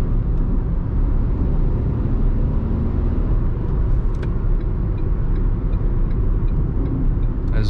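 Ford Ka Sedan SE 1.5 manual from 2020 accelerating onto a highway, a steady low engine and road rumble heard from inside the cabin, continuous and fairly loud with no break.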